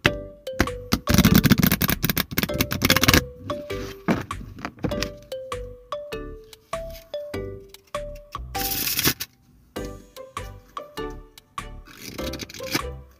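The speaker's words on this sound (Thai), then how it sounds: "รีดไพ่ให้ดู" A cheap deck of rough-papered playing cards is riffle shuffled up close: two long rushing riffles with crisp fluttering, separated by sharp taps, squaring knocks and handling clicks as the deck is worked and bridged.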